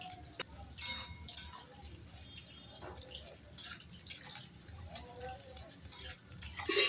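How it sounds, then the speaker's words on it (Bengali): Potatoes and onions fry quietly in a wok, a faint low sizzle broken by irregular stirring scrapes and clinks of a spatula. "আলু আর পেঁয়াজটাকে ভেজে নিচ্ছি।"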